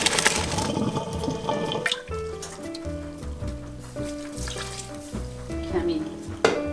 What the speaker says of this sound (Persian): حالا ما برنجمون رو آبکش میکنیم.